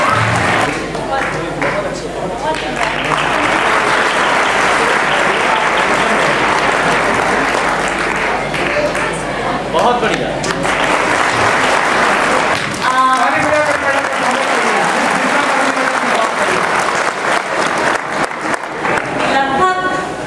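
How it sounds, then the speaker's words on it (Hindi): A large crowd applauds loudly at a JNV Foundation Day celebration, sustained clapping that dips briefly midway and then swells again, with voices speaking over it. "जोरदार तालियां देखिए।"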